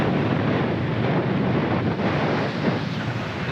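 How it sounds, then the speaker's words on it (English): Steep, closely spaced waves batter a sailboat on the open sea during a rough passage from New Zealand to Fiji, a steady loud broadband roar of wind and water with no voices. "The waves are like really close together and really steep like this."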